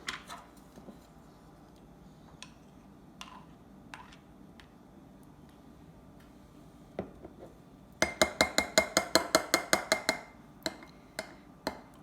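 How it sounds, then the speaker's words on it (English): Mini whisk stirring a honey mustard sauce in a glass bowl, at first sparse light clinks, then a fast run of sharp rhythmic taps against the glass that tapers off into a few last clicks. "she's going to stir that sauce up just to get it combined there"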